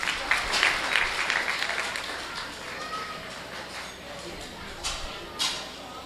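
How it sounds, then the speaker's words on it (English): Audience applause at a county fair swine show, a steady crowd clapping that fades from a fuller start to a thinner patter, with crowd murmur and a voice underneath. "a nice round of applause, please"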